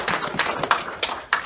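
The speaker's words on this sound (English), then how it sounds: "let's get a round of applause for Nancy for putting this together" Audience applause at a judo tribute ceremony at the Summer Nationals, steady mixed clapping from a crowd with a few sharper nearby claps standing out.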